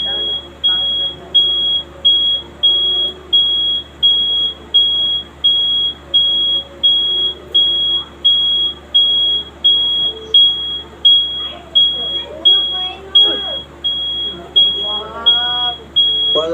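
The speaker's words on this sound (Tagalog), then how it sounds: "Fire alarm." A smoke alarm in a horror film beeps in a fast, steady, piercing pattern throughout, loud and insistent, while people talk and react over it toward the end.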